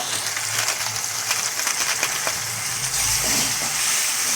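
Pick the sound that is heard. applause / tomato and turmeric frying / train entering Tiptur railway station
tomato and turmeric frying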